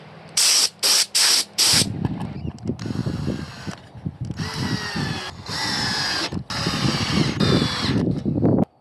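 Spray paint hissing onto ride-on model train track in bursts: three short sharp blasts, then longer sustained sprays with brief pauses, close and loud, no talking.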